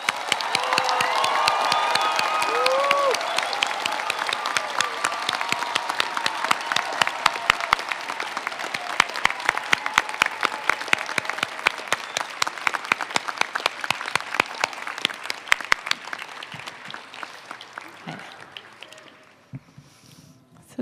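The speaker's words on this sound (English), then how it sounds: "Now please join me to clap on their behalf." Audience applause at a May 2026 college commencement ceremony, sustained clapping from a large crowd filling the hall for about fifteen seconds before thinning out and fading.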